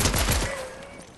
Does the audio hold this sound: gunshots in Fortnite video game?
yes